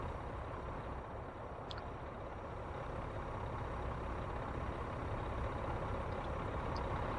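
A truck engine idles in American Truck Simulator, a low steady rumbling drone held at an even, fairly quiet level for the whole stretch, with one faint click partway through.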